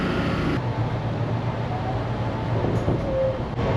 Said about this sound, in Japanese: ちょうど山口線停車中なのでこちらに乗車したいと思います。